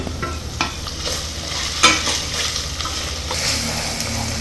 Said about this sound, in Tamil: இதையும் சேர்த்து நல்லா வதக்கிக்கோங்க